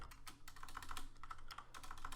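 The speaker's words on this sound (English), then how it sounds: "can't type the A, guys." Typing on a computer keyboard during a Kotlin programming session, a quick irregular run of close, crisp key clicks with no voice over them.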